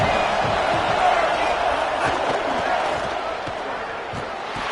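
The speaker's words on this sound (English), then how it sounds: "This crowd bringing the energy and noise early." A stadium crowd roars steadily in an American football video game, a dense, loud wash of cheering that eases slightly toward the end, with a commentator talking over it.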